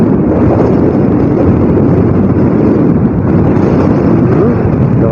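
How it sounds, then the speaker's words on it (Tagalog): Strong wind roaring steadily into a microphone while riding a motorcycle on a long ride through Sorsogon, a loud continuous rumbling buffet with no talk. "Lakas ang hangin."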